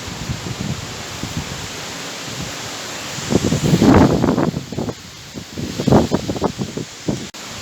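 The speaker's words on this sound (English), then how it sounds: "very windy" Strong wind gusting against the microphone in woodland, rising and falling in roaring surges with rustling in between, no voices.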